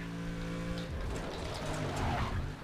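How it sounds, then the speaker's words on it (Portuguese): Car braking hard in Need for Speed Undercover: an engine tone drops away into a rough scraping tyre and brake noise that swells toward the end, close and loud. "Olha o tanto que eu freio, meu carro."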